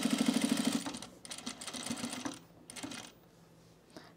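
A home sewing machine stitches the cuff of a men's utility jacket, with a quick rhythmic run of stitches up close at first, then softer uneven bursts and handling noises that fade out.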